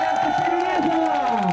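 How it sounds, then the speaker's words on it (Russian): A crowd cheers and applauds at the opening ceremony of a new 7-kilometre motorway section on the Lobanovo bypass, a loud, dense ovation with shouts and steady sustained tones running through the whole moment. "Друзья, ваши овации"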